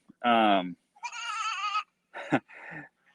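Goats in a small farm herd bleat in several loud, wavering calls with short pauses between them, close by and clear, with no talk over them.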